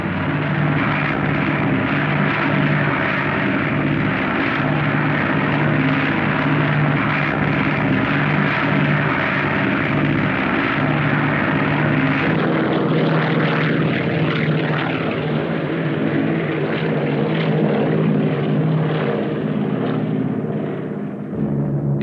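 Propeller airplanes drone overhead in a loud, sustained roar of piston engines and spinning airscrews, holding steady for a long stretch before thinning slightly at the end, with no voices.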